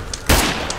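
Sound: gunshot headshot in the video game State of Decay 2

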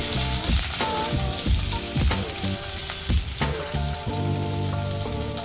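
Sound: chopped onions frying in hot olive oil in a wok

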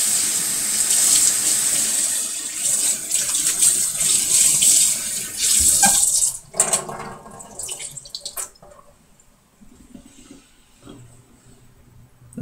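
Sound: rinsing a Norwex cleaning rag under a running tap

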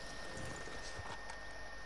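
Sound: horse hooves in Red Dead Redemption 2 video game

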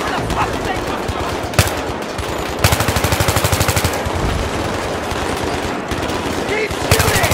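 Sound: gunfire in Battlefield 3 video game

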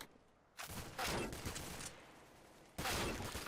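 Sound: sniper rifle gunfire in Counter-Strike: Global Offensive video game

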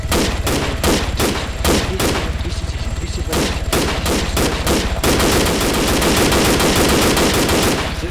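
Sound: gunfire in a video game

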